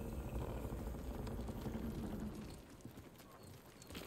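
Horse hooves in Ghost of Tsushima during a ride: a steady, rhythmic clip-clop at moderate volume that continues through the clip and eases slightly near the end.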